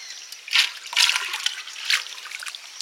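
Water trickling and dribbling out from under a big basin pressed over a cooking pot of fish curry, a close, uneven run of splashy pulses with no talk.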